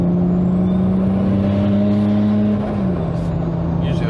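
A single-turbo BMW 335i with an N54 engine and 8HP gearbox swap pulls under load, a loud steady engine drone whose pitch holds then dips slightly as it spools and accelerates, heard from inside the car.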